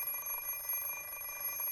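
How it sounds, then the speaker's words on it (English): An alarm clock rings in the video game Fate/stay night, a steady electronic beeping tone that repeats evenly and fairly loud throughout, with no voices. "I look at the alarm clock drowsily."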